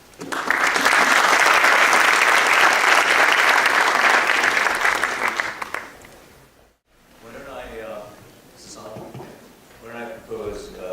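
An audience at the HIC 2013 conference applauds to welcome a guest: loud, dense clapping that swells and holds for several seconds, fades, then gives way to someone speaking.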